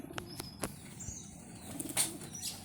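A red checker racing pigeon flaps its wings in bursts while being held, giving a few quick, close, soft fluttering beats with small rustles in between and no talk.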